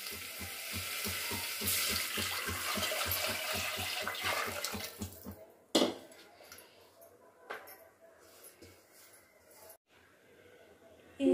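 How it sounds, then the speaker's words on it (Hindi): Water pours into a cooking pot in a home kitchen for rice, a steady rushing splash for about six seconds before quieter clinks and scattered kitchen sounds. "अब हम इसके अंदर एक हंडी पानी डालेंगे।"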